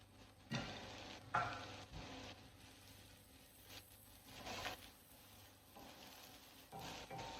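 Onion for spaghetti sauce cooks in a pan, a faint soft sizzle with scattered stirring scrapes and light utensil knocks, quiet and without speech.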